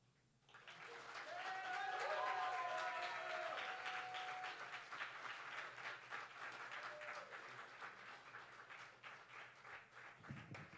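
A crowd at a poetry slam breaks into applause for a performer, swelling quickly to a loud, sustained round of clapping with cheers, then gradually thinning toward the end.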